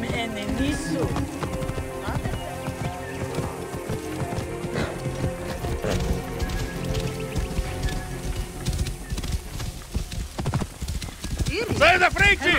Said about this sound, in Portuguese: Eu adoro o som do casco, o som do galopar.